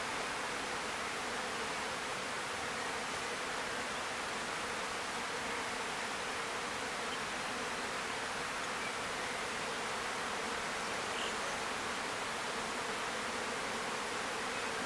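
Dense, steady buzzing of many honey bees, close and continuous throughout with no pauses or other sounds.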